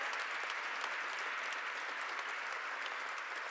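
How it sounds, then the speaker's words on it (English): A crowd applauds at a government announcement event with the governor and mayor, steady broadband clapping heard from a distance, fairly faint but continuous with no pauses. "a round of applause."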